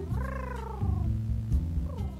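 Fox character in the horror game Mint's Hints purring and making a soft, cat-like vocal sound, a low continuous rumble with a drawn-out tonal call at the start, close and steady.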